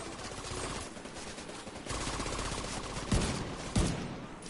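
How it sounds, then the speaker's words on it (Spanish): Rapid automatic gunfire in the video game The Division 2, sounding as dense sustained bursts of shots with a couple of sharper single blasts near the end, fairly faint and somewhat distant. "Sí, ya escucho los balazos."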